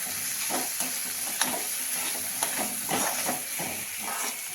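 Ginger garlic paste frying in a hot pan while cooking a Maharashtrian dill (shepu) vegetable dish: a continuous loud sizzle and hiss, with a few soft stirring scrapes breaking through and no talking.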